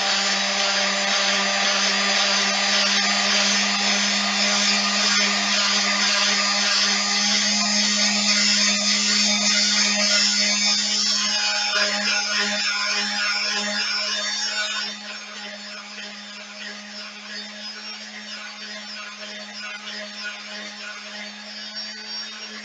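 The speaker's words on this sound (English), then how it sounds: "I've just got an electric sander here with some 60 sandpaper on it" Electric sander fitted with 60 grit sandpaper working a wooden walking staff, a steady loud whirring hum with a constant low tone, dropping to a slightly quieter level partway through, no voices.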